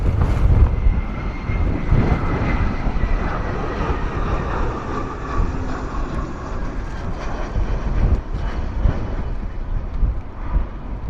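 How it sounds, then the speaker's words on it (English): An EasyJet airliner touches down at Bristol Airport in gusty wind, with a broad, loud roar of engines and rushing air that holds steady throughout and sits close and continuous. "Wow, what a fantastic touchdown from the guys at EasyJet."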